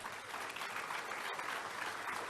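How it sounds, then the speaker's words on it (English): Faint, steady applause from an audience at a sports awards ceremony honoring sportsmen and sportswomen, an even wash of clapping with no talk over it. "And I think all our recipients and former winners deserve a round of applause."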